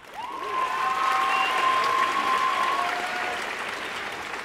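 Steady audience applause at a Dutch music awards show, a broad wash of many hands clapping that swells in over the first half second, holds full and even, then eases slightly, with a faint tonal tone lingering in the background.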